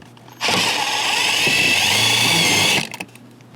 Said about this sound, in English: I'm using a 5/16 drill bit, and I'm going to drill just a hole right through the center